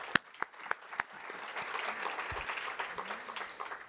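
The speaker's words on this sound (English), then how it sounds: "A big round of applause for the team here." Applause at a large international economic conference in Montreal, a few crisp nearby claps at first, then a fainter, distant wash of clapping from the hall.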